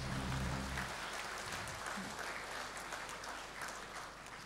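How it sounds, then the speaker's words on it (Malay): Audience applause at a Malaysian ceremony honouring an animation course from Giat Mara Kota Raja, Petaling Jaya: a steady, fairly faint wash of many hands that tapers slowly, with a brief low voice or tone at the start. "Kita berikan tepukan kepada mereka."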